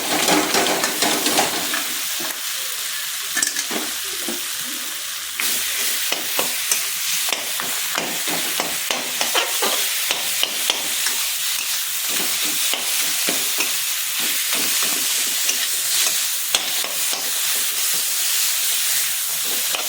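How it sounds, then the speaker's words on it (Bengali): Fish head frying in oil and cooked spice paste in a pan for a mung dal dish, a continuous loud sizzle and hiss with repeated stirring scrapes, no talking. "মাথাটা আমার ভাজা ভাজা হয়ে গেছে।"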